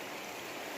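A mountain creek flows steadily nearby, a soft continuous babbling wash of water with no talking over it.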